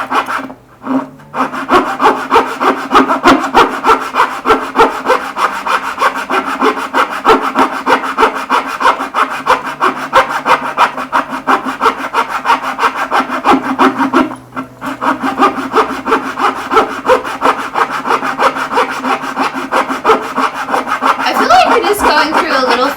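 A hand saw cuts through wood in rapid, even back-and-forth strokes, loud and close, the rhythmic rasping running almost nonstop with one short pause partway.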